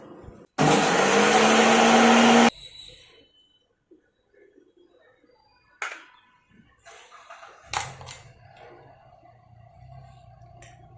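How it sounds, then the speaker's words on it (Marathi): A mixer grinder grinding ginger and garlic whirs loudly for about two seconds, then stops, followed by a few clattering knocks and a quieter rumble. "हे आता आपण मिक्सरला बारीक करून घेऊयात।"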